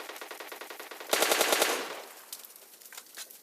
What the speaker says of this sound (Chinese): 这里有枪声。